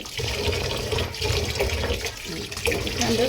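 Rice being rinsed in water for khichuri, continuous splashing and sloshing with running water at close range, steady and fairly loud throughout.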